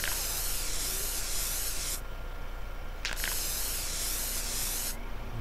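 Spray can hissing in GTA San Andreas with a remastered HD sound pack, steady close broadband spray bursts of about two seconds each, separated by brief pauses, loud and alone.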